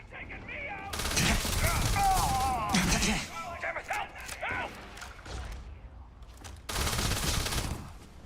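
Rapid-fire weapon shots in the video game Starfield, two loud dense bursts of gunfire near the start and again at the end, with speech heard between them.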